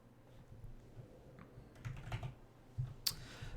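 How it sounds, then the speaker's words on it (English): Quiet typing on a computer keyboard during a game: soft irregular key clicks in short bursts, with a couple of sharper taps near the end, close and alone. "That's what I'm typing."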